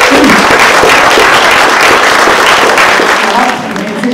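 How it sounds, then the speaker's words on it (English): Dense applause from the audience at a caregiver awards ceremony as six finalists are welcomed, a loud continuous wash of many hands clapping that fades slightly near the end. "Give them a round of applause."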